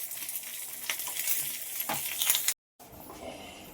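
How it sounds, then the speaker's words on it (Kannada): Half a teaspoon of mustard seeds, a Byadgi chilli, curry leaves and asafoetida sizzle in hot oil for tempering, crackling steadily with a few metallic clinks close by before a brief dropout, with no voices. "ಇವಾಗ ಇದಕ್ಕೆ ಈ ಒಗ್ಗರಣೆನ ಸೇರಿಸ್ಬಿಡೋಣ."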